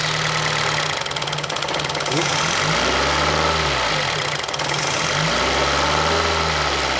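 A Fiat Uno Fire i.e. engine idles steadily up close, then revs up twice in smooth rising and falling swells before settling back to idle.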